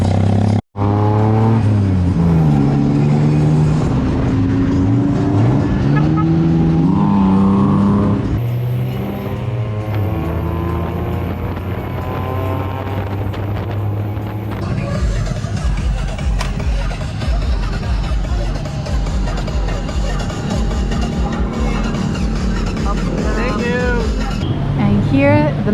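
A tuk-tuk in Bangkok rides through busy streets, its small engine droning and revving steadily close by, with shifting traffic noise and people talking over the ride throughout.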